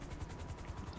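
Helicopter from GTA 5 Online, a steady rotor thump pulsing rhythmically under a dense engine roar, close and continuous with no talking.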